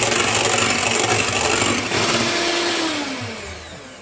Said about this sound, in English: I'm going to whisk this up. I'm going to start at low speed first.